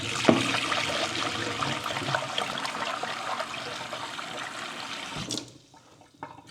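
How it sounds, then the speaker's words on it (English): Raw rice rinsed in water in a kitchen, a continuous close sloshing and swirling wash that fades out toward the end, leaving faint trickles. "wash this rice. All we want to do is pretty much just take that bit of rice starch out."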